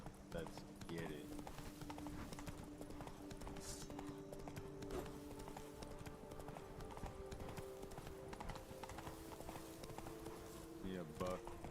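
Roach, a horse in The Witcher 3, galloping with rapid rhythmic hoofbeats that run steadily throughout, mixed with game music and someone talking over it.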